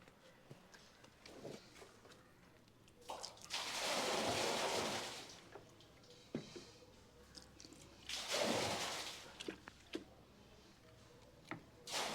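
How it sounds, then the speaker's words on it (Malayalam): Bleach solution pours from a bucket into a well in two long, rushing splashes separated by a pause, with scattered knocks and clicks of the bucket around them and no speech. "നേരത്തെ പോലെ തന്നെ നമ്മൾ ഇതിലേക്ക് ഒഴിക്കുന്നു."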